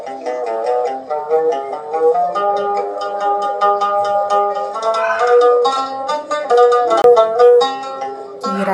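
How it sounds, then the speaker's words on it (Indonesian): A Lampung gambus lute is plucked in a quick, steady melodic run of bright twangy notes, close and fairly loud, with a few accented strums, no speech over it. "Ini adalah suara alat musik gambus Lampung."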